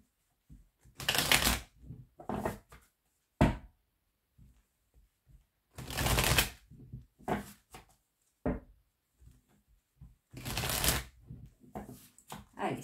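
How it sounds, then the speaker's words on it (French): A deck of oracle cards is shuffled close by, with three loud riffling bursts separated by softer taps and card handling. "Allez, on va aller voir avec l'oracle des miroirs."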